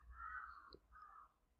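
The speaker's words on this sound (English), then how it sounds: "There's a bird outside." A crow caws outside, two hoarse calls in quick succession, fairly faint and distant, with no voices over them.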